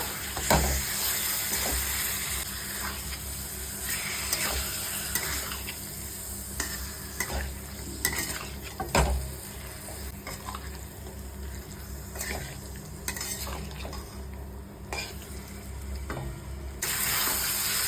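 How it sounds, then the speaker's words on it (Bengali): Marinated chicken stirred and fried in a pan for a spicy Bengali chicken curry, continuous sizzling with repeated spatula scrapes and a few clinks against the pan, close up and without speech. "এইবার ম্যারিনেট করা চিকেনটা দিয়ে দেব। ভালো করে কষিয়ে নেব।"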